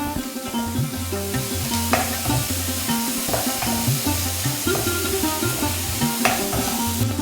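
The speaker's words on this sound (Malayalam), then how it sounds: "ഇതെല്ലാം ചേർത്ത് നമുക്ക് നന്നായിട്ട് ഇളക്കി യോജിപ്പിച്ചെടുക്കാം." Onions fry in a pan with curry leaves and salt for a Kerala-style brinjal curry, giving a steady loud sizzle broken by rhythmic scraping stirs, with music playing underneath.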